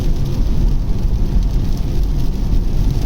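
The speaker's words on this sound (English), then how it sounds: "The absolute state of this rain." Heavy summer rain in Scotland pours down in a dense, loud, continuous wash of noise, with no talking.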